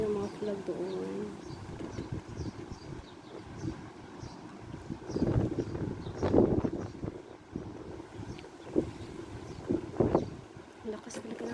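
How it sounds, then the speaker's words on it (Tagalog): Strong wind buffets the microphone during an outdoor sandstorm, a steady rushing roar with louder gusts swelling and fading; voices talk briefly over the blustery noise. "Very windy. This is a sandstorm."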